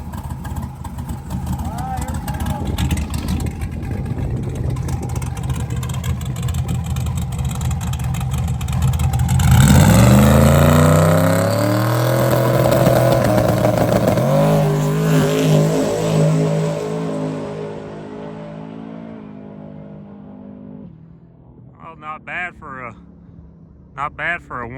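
A 4x4 NASCAR no-prep drag truck engine roars steadily during a run, climbing in pitch through the middle, then fading away toward the end as voices talk over it.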